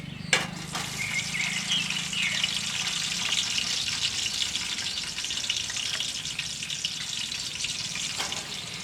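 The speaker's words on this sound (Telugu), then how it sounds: "టమాటాలు నాలుగు ముక్కలుగా కట్ చేసి ఫ్రెండ్స్ మనం వేయించుకుందాం" Quartered tomato pieces frying in a pan, giving a loud, continuous close sizzle and hiss with a sharp clatter near the start.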